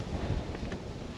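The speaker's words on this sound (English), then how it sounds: "Excuse the wind, it's pretty windy today." Wind buffets the microphone with a steady, low, roaring rumble; no one speaks.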